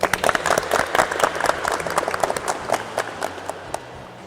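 A classroom audience of vocational automotive students claps for student groups, a short burst of loud, dense applause that tapers off over a few seconds.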